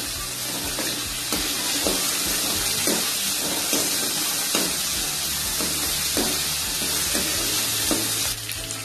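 Chopped tomato and chutney ingredients sautéing in a hot pan, a continuous loud sizzle broken by repeated scraping and stirring clicks, with no talking.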